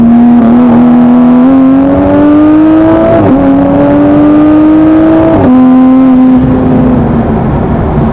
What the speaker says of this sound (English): This car also has rolling anti-lag.